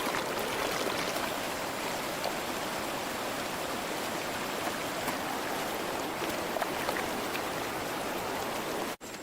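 River water rushes over stones in a jungle setting, a dense, even, continuous wash of noise with no voices.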